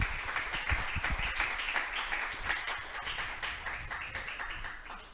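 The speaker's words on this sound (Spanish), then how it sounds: "Vamos a brindarle un fuerte aplauso a nuestro Dios." A church congregation claps together in dense, steady applause at moderate loudness, with broadband crackle throughout and no voices rising above it.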